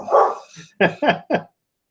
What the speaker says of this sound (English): while we're waiting for the dog barking to subside